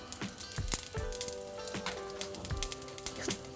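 Black cardamom and a spoonful of cumin seeds dropped into hot leftover oil in a pan: quiet, close crackling and popping of the seeds in irregular bursts over a soft sizzle, with no talking.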